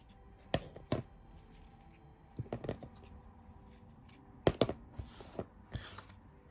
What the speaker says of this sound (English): Just trim off the excess thread on the other end as well.